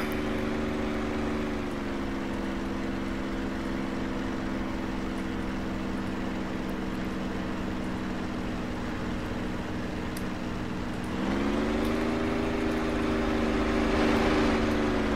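A WWII-era aircraft engine in the DCS flight simulator drones loudly and steadily throughout, its pitch dipping slightly early on and rising again near the end as power increases.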